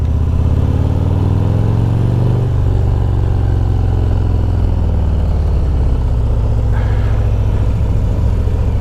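A 2023 Harley-Davidson Road Glide Special with a Screaming Eagle Stage 2 engine runs loud and close, its deep, steady V-twin rumble rising and falling through revs.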